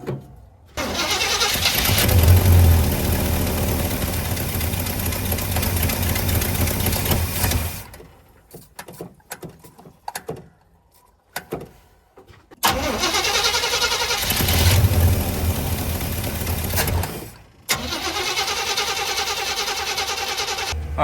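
A 1985 Chevrolet C20 truck, sitting over ten years with a dead battery, cranks and fires up twice, each time running loudly for several seconds before cutting out, with rough, quieter clattering between attempts.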